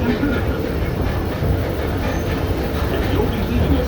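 The Disneyland Railroad train, pulled by an excursion engine, rolls along its track with a steady, dense low rumble and faint rhythmic clatter, heard from on board with murmured talk beneath.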